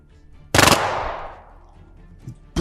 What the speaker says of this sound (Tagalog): Putok ng mga baril yun ah.